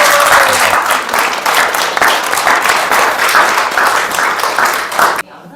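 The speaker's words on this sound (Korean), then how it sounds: "다시 한번 박수 부탁드리겠습니다." A large crowd applauds steadily and energetically after an octet's concert performance, the clapping continuing without pause until it cuts off abruptly near the end.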